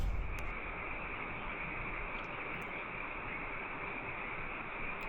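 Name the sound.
loud frogs croaking at night near a river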